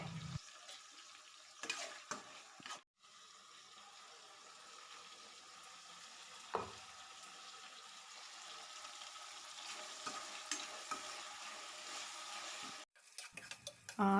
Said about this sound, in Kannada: ಇದು ಫ್ರೈ ಆಗಿದೆ